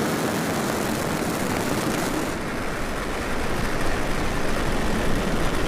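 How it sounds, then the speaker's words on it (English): SpaceX Falcon 9 rocket lifting off from Vandenberg, a loud, steady, broadband roar that fills the whole clip with no break and builds slightly in the second half. "And liftoff of Falcon 9."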